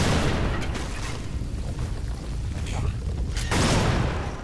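Explosions in the Lara Croft and the Guardian of Light video game: dense, rumbling booms and blasts roll through the whole stretch, loud and continuous, with a fresh burst near the end.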